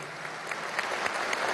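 Brief applause from an audience at a Bolívar–San Martín colloquium, moderately quiet, dense clapping with a few sharper claps standing out, swelling slightly toward the end.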